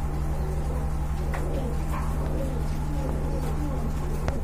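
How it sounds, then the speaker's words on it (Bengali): A pair of large pigeons coos nearby in soft, repeated throaty calls, set against a steady low mechanical hum and occasional faint chirps. "মাশাআল্লাহ খুবই সুন্দর কোয়ালিটিফুল বিগ সাইজের কবুতর।"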